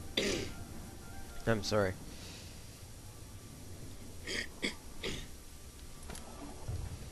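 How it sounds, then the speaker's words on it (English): A man clears his throat a few times during spoken commentary over a playthrough of the game Oblivion, with short, rough bursts standing out between and after his words, close to the mic. "I need to clear my throat"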